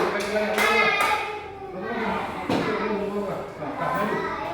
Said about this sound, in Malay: Tepuk tangan dulu untuk kelompok kita